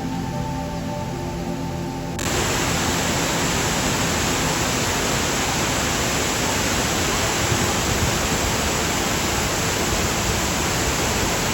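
The Charpa waterfall near Athirappilly roars as a loud, unbroken rush of water, steady and close throughout, with a short quieter stretch at the start.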